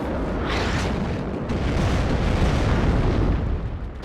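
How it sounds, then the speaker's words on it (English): Artillery shells explode in the WARNO video game, a continuous loud rumble of booming blasts that merge into one heavy, rolling roar with no voices. "Artillery is coming down here, but it's not in a good spot"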